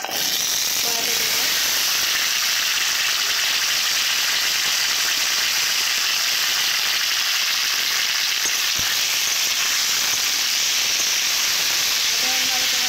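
Potato and taro fry in a kadai for a Bengali ghonto, giving a loud, steady sizzling hiss from start to finish, with brief faint sounds underneath.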